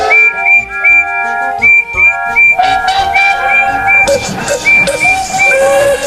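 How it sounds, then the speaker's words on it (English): A chorus of steam engine whistles from engines large and small, loud overlapping shrill tones sounding in repeated short and long blasts, joined by more whistles partway through with hissing steam beneath. "This was the signal for a chorus of whistles from engines large and small."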